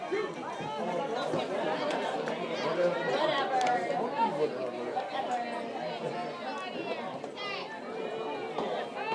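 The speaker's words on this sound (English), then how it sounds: "Hear plenty of chatter from the crowd." Steady chatter and overlapping voices from the crowd at a high school softball game, with shouts and calls rising above a murmuring background at moderate distance throughout.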